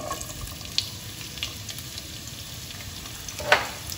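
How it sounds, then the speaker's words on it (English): Onions frying in a pan with whole spices such as black pepper, mace and stone flower, a steady low sizzle with a few soft clinks and a brief louder scrape near the end. "Next, I'm going to add the onions."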